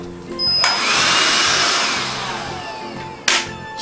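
A Titan Power budget vacuum cleaner running and sucking up debris in a home, a loud whooshing roar that rises and slowly tapers, with a sharp click and surge near the end.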